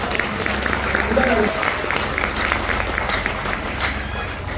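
An audience at a motivational seminar gives a round of applause, steady clapping of moderate loudness with voices talking over it throughout.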